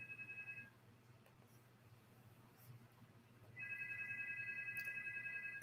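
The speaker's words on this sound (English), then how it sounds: "Sound like the phone ringing." A phone rings from inside a purse in faint electronic bursts, one pulsing ring at the start and another beginning after a pause, in a quiet room with a low hum.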